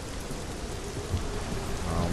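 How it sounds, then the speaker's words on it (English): Torrential rain pours steadily in a video game, a dense unbroken roar close and loud, with a faint low rumble like distant thunder partway through. "How did it go from like bountiful sunlight to torrential rain one instant to the next?"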